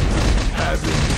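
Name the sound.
explosion in Spider-Man 2 PS2 video game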